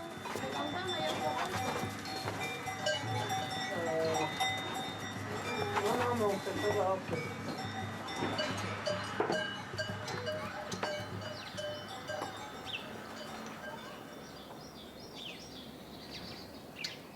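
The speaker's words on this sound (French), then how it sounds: "la petite Louane s'endort au son des cloches." Clanking bells from grazing cattle on a farm in Val d'Anniviers, Switzerland, ring irregularly over a busy outdoor scene, with voices talking throughout and animals calling nearby.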